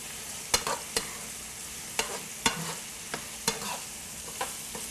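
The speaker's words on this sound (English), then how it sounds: "And I'm just going to mix that all around." A spoon stirs jelly into Swedish meatball gravy in a pan, scraping and clacking against the metal in irregular knocks over a steady sizzle, close and fairly loud with no talking.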